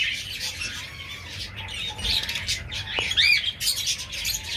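Cockatiels call in a breeding aviary with sharp squawks and chirps, a few louder nearby calls rising over a busy background of other birds and faint rustling.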